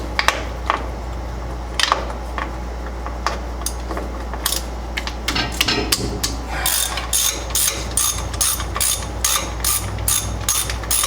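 Ratchet wrench clicking repeatedly while working on a 1982 Datsun 720 truck, rapid bursts of pawl clicks that grow denser and louder toward the end, close up over a low steady hum.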